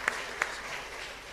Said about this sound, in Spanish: Fuerte aplauso para el Señor entonces.